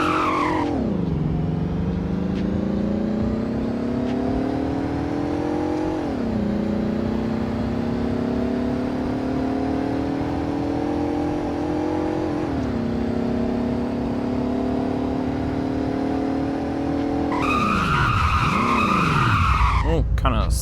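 A car in the Roblox Greenville game revs hard and accelerates through several gear shifts, engine pitch climbing steadily, then spins out with a loud tire skid near the end.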